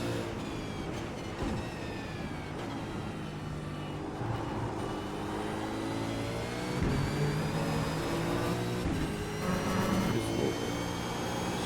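A race car engine in the iRacing simulator revs hard under throttle. Its dense, continuous roar rises and falls in pitch through gear changes and holds steady and loud the whole way.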